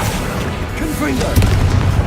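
The Confringo blasting spell in Hogwarts Legacy goes off as a deep, muffled boom that rolls on for a moment, following a voice that is heard briefly just before it.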